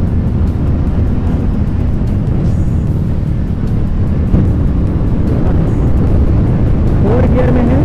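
Royal Enfield Meteor 350 motorcycle, a 2023 model with ABS, accelerating in gear with a loud, steady engine roar and heavy wind rumble throughout, rising slightly in pitch near the end.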